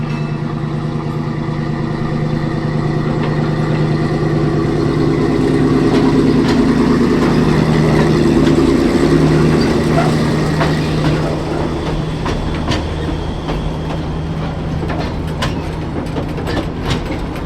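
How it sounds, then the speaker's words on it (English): A gasoline-powered locomotive train rumbles steadily past close by, engine droning with rhythmic clacking of wheels on rails, loud and continuous throughout. "Number 26, gasoline-powered locomotive,"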